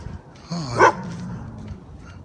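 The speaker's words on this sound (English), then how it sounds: "You gonna be an Afghan hound dog and bark through your village?" An Afghan hound gives a single short bark, close by, with soft background noise around it.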